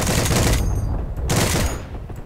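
Rapid bursts of automatic gunfire in the World War II shooter Heroes and Generals, loud and close, in two dense volleys separated by a brief lull.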